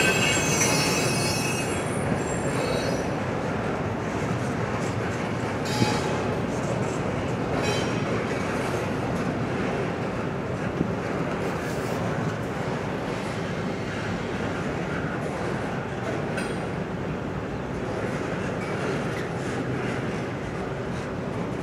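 A CSX freight train on the Portsmouth Subdivision grinds past at close range, its wheels squealing loudly and continuously over a steady rolling roar, with occasional clanks and no talking.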